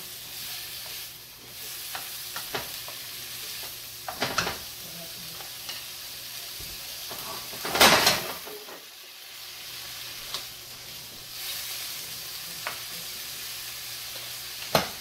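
Pancetta sizzles steadily in a pan for keto carbonara, with intermittent scraping stirs and a louder clatter about halfway through, heard up close with no talking.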